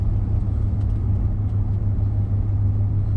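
A car driving along a road makes a steady, close low rumble with a constant engine drone that never rises or falls, and no one speaks.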